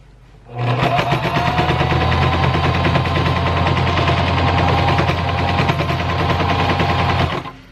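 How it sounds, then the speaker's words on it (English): A sewing machine stitches fabric seams, its rapid needle chatter running steadily for about seven seconds before stopping. "we're gonna go ahead and stitch"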